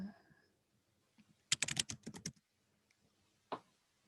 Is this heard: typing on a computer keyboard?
yes